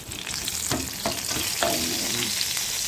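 Cashew nuts fry in a pan for halwa with a continuous close sizzle, broken by a few soft scraping stirs.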